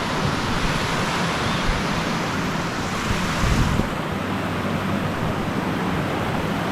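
A brook in the Peak District at North Lees in winter, near a fallen tree acting as a natural bridge: steady, close broadband rush of flowing water with no talk.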